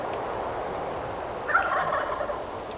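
A wild turkey gobbles during a public-land hunt in South Dakota, one rolling gobble at moderate distance rising over steady outdoor background noise, with no speech.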